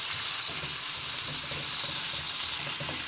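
Carrot and bell pepper sautéing in a pan for Korean japchae give off a dense, loud, continuous hiss and sizzle with no pauses or talking.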